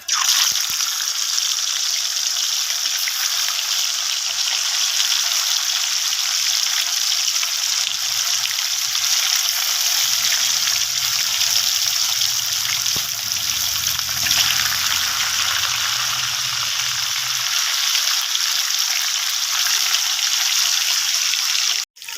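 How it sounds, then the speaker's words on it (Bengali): Birket fish frying in hot oil, a steady broadband sizzle that holds throughout with a faint low bubbling swelling midway, no talk over it. "তো আমার তেলটা গরম হয়ে গেছে, এখন আমি মাছটাকে ছেড়ে দেবো।"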